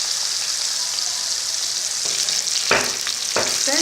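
Masala gravy for a Mithila-style fish curry fries in a pan with a continuous bright hiss, and a few sharp stirring scrapes come near the end.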